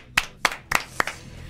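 Four sharp hand claps, evenly spaced about a third of a second apart, welcome a guest on a live Argentine music show; they are close and crisp over a quiet background.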